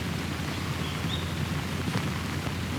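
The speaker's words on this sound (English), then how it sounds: "The rain just starting to come down out here again." Light rain starts falling on a golf course during an amateur championship round, a steady soft hiss of drops with no talk over it.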